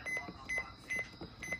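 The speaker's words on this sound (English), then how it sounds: "I hope there's an option that'll let you disable the button beeps on this" Button beeps on a Midland WR300 weather radio, four short electronic tones at a steady pace, close but not loud.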